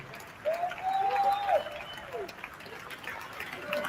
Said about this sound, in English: Give Jonathan Jackson another great round of applause